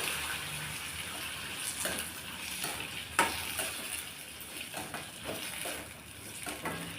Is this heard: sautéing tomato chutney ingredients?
yes